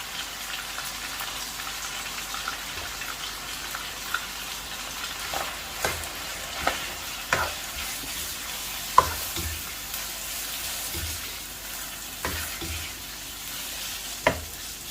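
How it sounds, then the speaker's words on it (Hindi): A kilo of boneless chicken fries on high heat in ghee and butter for Peshawari karahi, giving a steady sizzle with a spatula scraping and knocking against the pan every second or two, close, no voices. "चिकन को मैंने अच्छी तरह फ्राई कर लिया है।"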